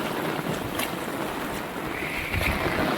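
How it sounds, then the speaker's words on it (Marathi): A windy storm with rain sweeps through a village in the Konkan region, a steady, loud roar of gusting wind and rainfall that holds for about three seconds with no voices. "गावात पण वादळ आहे वाऱ्या पावसाबरोबर वादळ खूप आहे"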